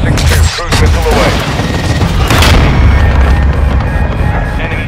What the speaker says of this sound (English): Trojan 6-2, cruise missile away.